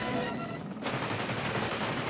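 Helicopter turret machine gun from the 1983 film Blue Thunder firing a dense, continuous burst of rapid shots, loud and close, with a brief shift in tone partway through.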